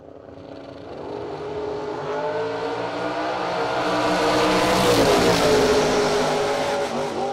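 Drag racing Camaros launching down the strip, engines building from a deep rumble to a loud, rising high-revving roar as the cars accelerate away, heard from trackside.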